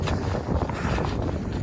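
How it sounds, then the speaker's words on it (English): Steady, blustery wind roars and buffets the microphone on a snowy ridge, a dense low rumble with no voices, sustained throughout. "So windy up here."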